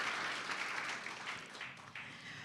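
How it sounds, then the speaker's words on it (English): Sustained audience applause at an awards ceremony fills the room, a steady dense wash of clapping heard from within the crowd. "stop to applaud everyone"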